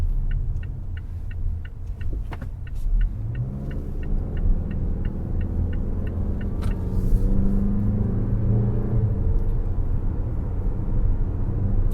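A 2019 Mazda CX-5 Grand Touring Reserve with a 2.5-liter turbo engine accelerates, heard from inside as a steady, rising engine rumble under a faint repeating ticking, with no speech.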